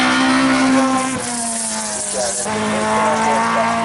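A Toyota race car at an asphalt sprint event, its engine loud and close, pitch climbing through gears with abrupt drops at shifts, revving hard under a faint commentator's voice.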